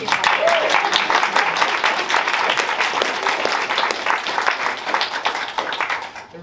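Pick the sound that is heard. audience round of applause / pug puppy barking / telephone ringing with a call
audience round of applause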